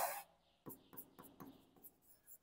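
A pen scratches out a line of working for a Class 10 maths lesson on the Pythagoras theorem, in short rubbing strokes at a steady rhythm, close and fairly quiet.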